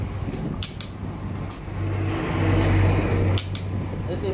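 A Hikari H7900N sewing machine hums steadily at close range after an Error 22 fault is cleared, with a continuous motor whir and faint mechanical ticks.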